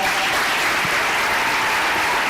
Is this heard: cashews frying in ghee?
no